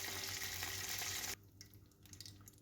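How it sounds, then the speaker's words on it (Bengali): Kushli pitha fry in hot oil, a loud close hiss of bubbling oil that cuts off abruptly midway, leaving only faint quiet kitchen sounds with a few light clinks. "এই তো তেলে ভেজে নিচ্ছি এখন"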